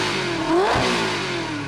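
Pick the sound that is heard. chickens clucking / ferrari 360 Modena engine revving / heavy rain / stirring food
ferrari 360 Modena engine revving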